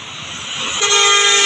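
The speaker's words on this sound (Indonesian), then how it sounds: "melintas satu unit bus." A bus passes on an eastern-route road in Indonesia, its engine rising as it nears before a loud sustained horn blast rings out close by.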